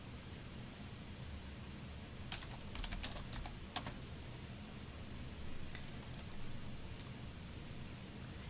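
Soft computer keyboard typing in a Linux terminal, a short burst of clicks near the middle, against a steady background hiss; fairly quiet and close.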